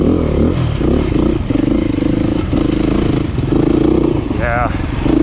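A four-stroke Beta dirt bike engine revs in repeated rising and falling bursts while out riding, loud and close, with a person talking over the engine noise.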